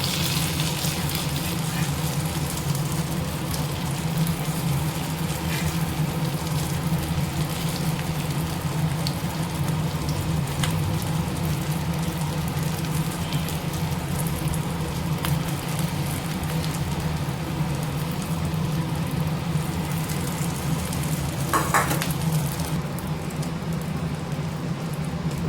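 Eggs deep frying in hot oil, a continuous dense sizzle and crackle holding steady and fairly loud throughout.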